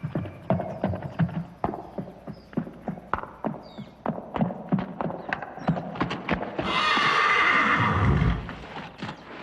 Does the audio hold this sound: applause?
no